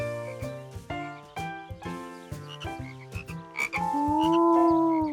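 Cartoon frogs in a Curious George episode croak in a quick, bouncy series of plucky, musical calls, ending with a longer sliding tone.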